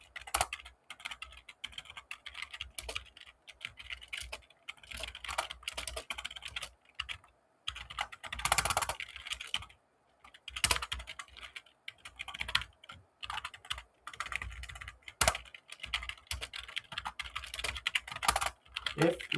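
Code being typed on a computer keyboard in steady bursts of close, crisp key clicks, with brief pauses between runs and occasional heavier keystrokes, and no one speaking.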